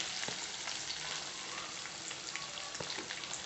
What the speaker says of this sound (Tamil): வெங்காயம் பூண்டு கட் பண்ணி வச்சுருந்தோம் பார்த்தீங்களா அதையும் வந்து ஆட் பண்ணிக்கலாம்